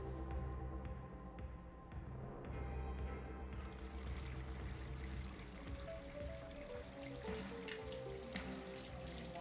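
A tap runs in Hitman, a steady stream of water pouring quietly over a low, droning game background.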